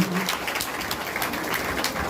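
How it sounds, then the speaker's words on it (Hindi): A church congregation clapping hands in thanks, a brief, fairly faint patter of dense applause filling the short moment without voices. "एक बार ताली बजा के धन्यवाद दीजिए प्रभु को"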